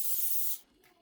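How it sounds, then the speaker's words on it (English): A short burst of cooking spray hissing onto a large cast iron skillet, bright and close for about half a second before cutting off into near silence. "Spray or grease a large cast iron skillet."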